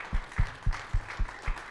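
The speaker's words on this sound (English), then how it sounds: "So round of applause for that." Sparse, faint applause at an agri-food investment summit, about seven separate claps in a slow, even rhythm, heard alone.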